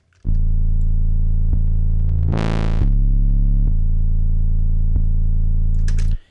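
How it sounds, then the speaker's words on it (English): A heavy, distorted 808 bass tone sustains and shifts pitch, with a gritty swept burst in the middle and crisp clicks marking the beat. "that's how we get that nasty 808 kind of distorted"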